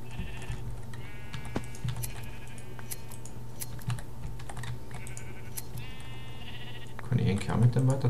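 Sheep in a video game bleat in short repeated cries, with quick keyboard typing clicking underneath and someone talking near the end.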